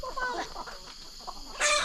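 Large chickens of three breeds cluck in short bursts nearby in a rural Thai setting, with a louder squawk near the end.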